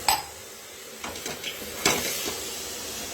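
Walnut halwa being stirred in a metal pan, with a few clinking scrapes of a spoon against the pan and a faint sizzle underneath, close and fairly quiet with no talking.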